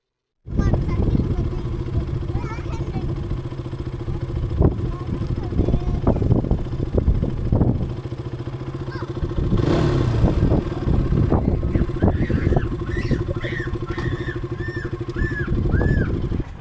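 A motorcycle climbing a hill road on a weekend ride, its engine droning loudly up close with wind buffeting and rattling, while a rider's voice talks over it and faint chirps come in near the end.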